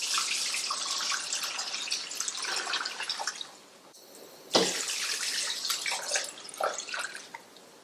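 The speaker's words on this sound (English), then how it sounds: "I'm going to add some water." Water splashes and pours steadily into a pot of homemade chicken broth, a brief pause in the middle, then the flow resumes with bubbling and trickling.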